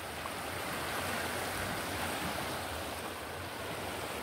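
The Torola river, swollen and rising, flows in a continuous broad rush of water with a wind-like hiss, steady and fairly close, with no voices.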